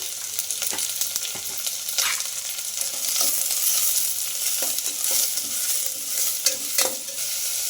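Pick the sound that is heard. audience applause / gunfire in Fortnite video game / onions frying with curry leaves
onions frying with curry leaves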